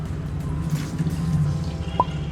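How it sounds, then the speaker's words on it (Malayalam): A cup of water poured into a pot of milk while making Kerala tea, with a soft, close liquid trickle and splash, a steady low hum underneath and a brief sharper drip near the end. "അതിലോട്ട് തന്നെ ഞാൻ 1 കപ്പ് വെള്ളം ഒഴിക്കുകയാണ്."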